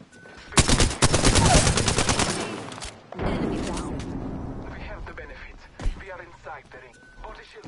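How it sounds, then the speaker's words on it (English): Enemy gunfire in Apex Legends Season 5, with rapid automatic bursts crackling densely for a couple of seconds, then scattered loud shots, with game effects continuing through the rest. "They're shooting at me!"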